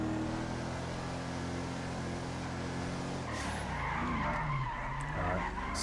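A car spins out in a police chase in GTA 5 FiveM. A steady engine drone breaks into a loud, wavering tire screech as the car skids and slides near the listener.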